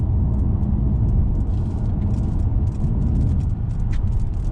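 A 2019 Mercedes-Benz E450 wagon on the move, a steady low road and engine rumble filling the cabin at even volume, with faint tire hiss above and no talking.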